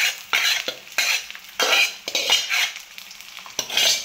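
Leftover or fresh rice for lemon rice is stirred and fried in a pan, with a steady sizzle under repeated scraping strokes that come in rough bursts about every half second.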